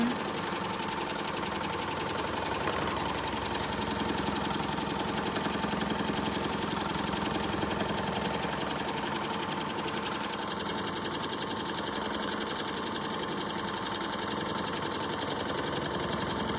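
A Ricoma EM1010 embroidery machine stitches a hat at 700 stitches per minute, giving a steady, loud mechanical whir with a fast repetitive needle clatter that runs unbroken throughout.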